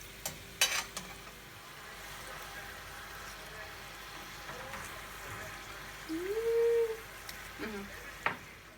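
Yam croquettes frying in a pan give off a faint, steady sizzle with occasional light clinks and scraping, and a short tonal squeak partway through.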